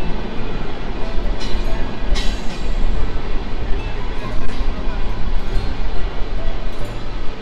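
The Jahanabad Express intercity train rumbles loudly and continuously on its run from Khulna to Dhaka, heard close from on board, with steady wheel noise and a few brief metallic squeaks and clanks.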